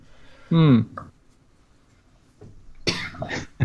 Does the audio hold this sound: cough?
yes